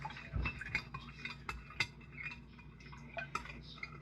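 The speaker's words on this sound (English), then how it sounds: "We're going to stir this until all of the sugar is dissolved." A spoon stirs sugar into liquid for bread dough, giving faint, irregular clinks and taps against the bowl at close range.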